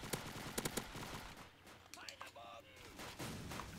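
Gunfire rattles across a Roblox WW2 battlefield, several sharp close shots in quick clusters at the start, then a lull filled with faint distant pops and game sound effects before more scattered shots return.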